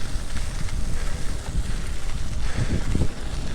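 Gusty wind buffeting the microphone in a continuous low rumble, with no voices.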